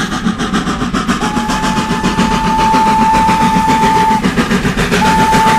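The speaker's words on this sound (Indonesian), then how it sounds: "Ini kereta api Thomas." A toy Thomas train engine runs with a steady, loud rhythmic chugging close by, and a sustained whistle tone sounds twice over it.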